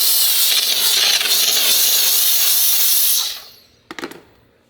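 A small handheld steam cleaner works into tile grout, giving a loud, steady rushing hiss for about three seconds before cutting off, followed by a couple of faint clicks.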